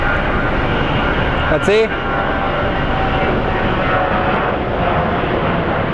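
Airliners at Sky Harbor International Airport produce a steady, loud engine roar that continues through the whole stretch, with a brief spoken remark over it near the start.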